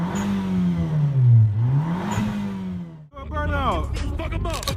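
A turbocharged Nissan Juke fitted with a blow-off valve revs hard during a burnout, its engine note swooping down and back up loudly for about three seconds before excited voices shout over it.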